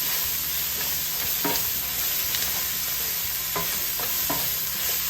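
Onion and the white and pale green parts of green onion are stir-fried in a pan beside browned beef for Thai beef fried rice, a constant close sizzle broken by repeated scraping strokes of the spatula.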